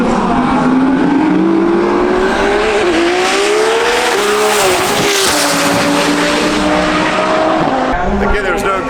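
Drag racing cars, including a silver Mustang, roar past at the TX2K drag strip, a loud continuous engine howl with rising and falling pitch and tire squeal, under faint crowd talk.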